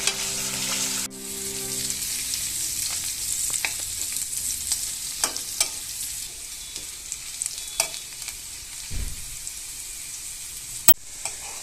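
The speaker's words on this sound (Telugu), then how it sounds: "ఇలాగా నూనెలో బాగా వేయించాలి." Cissus quadrangularis (nalleru) stems frying in hot oil, a steady bright sizzle throughout with occasional pops and stirring scrapes, close and fairly loud.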